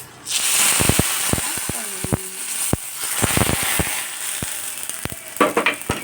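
A hot tempering of spices is poured into a drumstick leaf sambar and sizzles, with sharp crackles and pops over a steady frying hiss in a home kitchen, a voice speaking over it.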